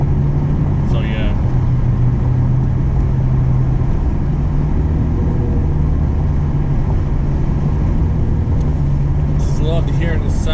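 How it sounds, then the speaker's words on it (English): A 2013 car with a 5.7L Hemi V8 drives at around 30 mph, a steady, loud engine and exhaust drone with constant road rumble throughout, heard from inside the cabin. "Just love to hear the sound of the car. You know, to hear the exhaust, hear the engine and everything else."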